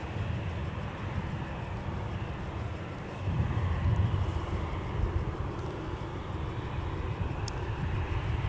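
A jet airliner roars steadily at Minneapolis–St. Paul Airport, arriving or departing, a broad continuous rumble that swells slightly midway and holds without voices.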